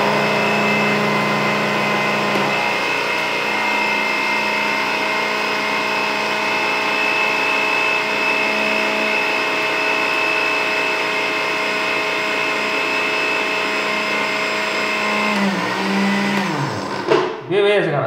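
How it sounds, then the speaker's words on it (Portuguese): A blender runs continuously at high speed with a loud, steady motor whine, then winds down and stops near the end. "vamos ver se o liquidificador vive"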